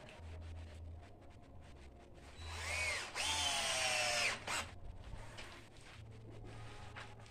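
A power drill drives screws through a tire bead into wood, its motor whining in short bursts and then one longer, louder run that pitches down as the screw seats, with quiet pauses between.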